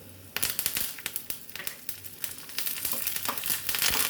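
Busy crackling sizzle of red chillies and curry leaves frying in hot oil for a tomato chutney tempering, with sharp pops and spits throughout, up close and without speech.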